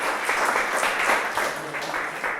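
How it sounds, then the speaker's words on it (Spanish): An audience at a Christmas-season event in Cochabamba claps for themselves, a steady wash of many hands sustained for a couple of seconds at moderate loudness, with no speech over it. "dense un aplauso por estar aquí a ustedes mismos"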